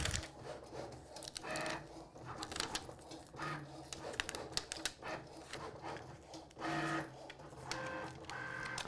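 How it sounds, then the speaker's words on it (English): A Cricut machine cuts vinyl, its small motor whirring and chattering in uneven bursts as the blade carriage moves back and forth, fairly close and steady over the whole stretch. "I love having a Cricut cut while you can weed."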